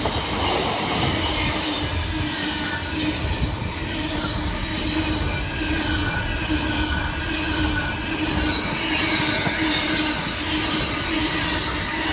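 An Intercity 225 passes at speed on the East Coast Main Line at Tuxford, heard close up from a footpath as a loud continuous roar of wheels and rushing air with a faint high squeal, steady throughout and with no talk.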